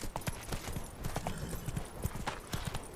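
Horse hooves clip-clop at a steady trot in The Witcher 3: Blood and Wine, close and fairly loud, with a faint whinny mixed into the rhythmic footfalls.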